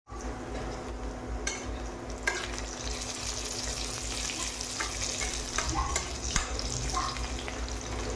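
Onions fry in a pan to a reddish brown with a steady, moderate sizzle and crackle, while a spoon stirs and scrapes now and then against the metal and a low background hum runs underneath, without any speech.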